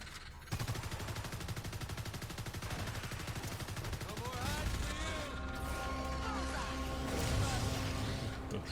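Sustained rapid gunfire at the Gorgon monster in the video game Evolve, a dense, loud automatic stream running throughout with layered game effects and shouting voices over it.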